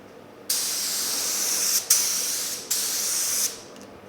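A spray gun lays clear coat on the underside of a 1950 Chevy truck hood, giving three close, steady hissing bursts of a second or so each, separated by short gaps.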